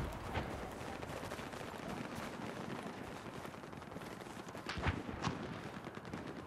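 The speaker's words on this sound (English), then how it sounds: "Still hear those shots coming in." Battlefield 4 gunfire, with scattered shots and short bursts sounding at a moderate distance across a dense, busy battle bed, a few sharper cracks standing out near the end.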